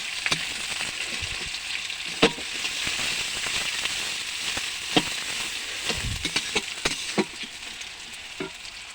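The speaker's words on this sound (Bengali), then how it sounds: "কড়াইতে আমি পেঁয়াজ দিয়ে দিয়েছি" Onions frying in a kadai over a rustic village earthen stove give off a loud, steady sizzle. Scattered crackles and pops sound throughout, with no talking.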